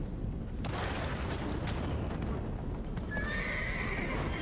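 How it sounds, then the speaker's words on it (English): Horse neighing and clip-clopping hooves in a fantasy video game, a whinny rising near the end over a dense, steady rumbling game backdrop, loud throughout with no talk. "Oh shit, I just accidentally called my horse"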